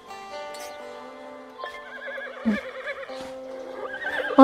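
Horse neighs and whinnies in the Rival Stars Horse Racing video game, with a harmonic whinny running through the middle and louder snorting bursts near the end, alongside faint clip-clop sounds and light game ambience.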